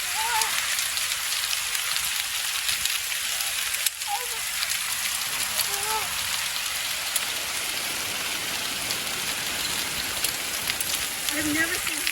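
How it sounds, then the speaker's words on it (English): Large hail pounds a cabin during a night storm on a long-distance hike, a dense, steady clatter and roar that keeps up without break, with a few faint exclamations heard under it. "I've never seen hail so big before."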